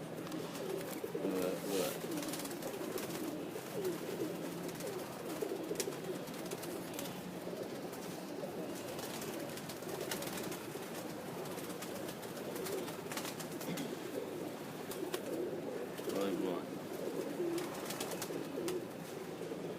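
Pigeons coo steadily and continuously on a Sialkot rooftop loft, a dense overlapping chorus of low throaty calls that stays at an even, moderately close level throughout.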